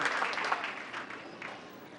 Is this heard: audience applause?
yes